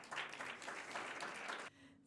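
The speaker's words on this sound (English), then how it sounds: "So another big round of applause." Audience applause after a presentation at an architecture award event, a dense burst of clapping from a crowd lasting under two seconds, then cutting off abruptly.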